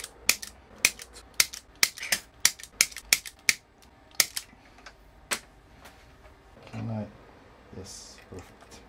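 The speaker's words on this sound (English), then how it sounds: "Now let's snip it." Wire cutters snip wire during a fuse repair on a Canaan Avalon A1166 Pro miner, giving a rapid series of close, crisp clicks and snaps that thin out into a few scattered cuts, with some faint handling noise afterward.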